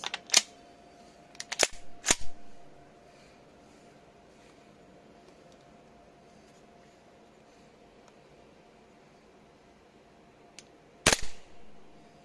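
A Lonex gas blowback airsoft rifle with steel internals fires 0.2 g BBs on a power test, with sharp, loud cracks: several shots in a quick cluster near the start, then a long quiet gap before one more close report.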